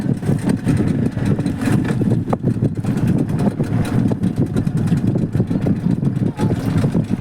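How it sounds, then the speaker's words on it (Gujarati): A motorboat engine running near Shivrajpur beach, Dwarka, a steady close rumbling drone with wind and water noise throughout, faint voices mixed in. "ભાઈ મશીન ચાલુ કરી નાખ્યું"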